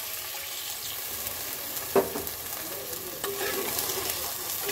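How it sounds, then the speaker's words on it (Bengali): Water is poured into a sizzling curry with new potatoes to make gravy. A continuous sizzle runs throughout, with a sharp burst near the two-second mark and clatters of stirring, and no one speaks. "এখন আমি দিয়ে দেব ঝোলের জন্য জল।"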